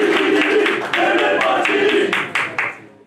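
Applause at a provincial nationalist party gathering celebrating a council decision: close, rhythmic group clapping in a few even bursts, with voices mixed in.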